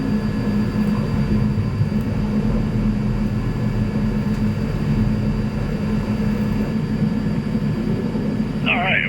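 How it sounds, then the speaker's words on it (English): Sustained low jet engine roar of an airplane on its takeoff roll in a flight simulator game, a steady loud drone holding level throughout with a brief higher chirp near the end. "cleared for immediate takeoff"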